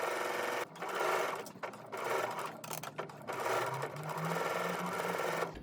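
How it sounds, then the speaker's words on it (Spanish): A domestic sewing machine runs steady stitching around a fabric edge at stitch length 3, its motor whirring in bursts with brief pauses between runs, close and clear with no talking. "hacer una costura todo alrededor a pie de máquina, bien ahí, en un largo de puntada de 3"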